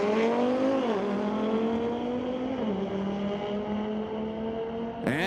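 Audi drag car at Mission Raceway, a loud, sustained engine roar under hard acceleration with rising pitch and gear changes at about one and three seconds, ending in a sharp burst near the finish.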